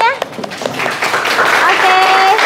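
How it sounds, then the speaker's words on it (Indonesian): Students clap in a classroom during a teacher's lesson, a dense burst of applause rising after a few scattered early claps, with voices and a whistle-like tone mixed in. "Boleh tepuk tangannya?"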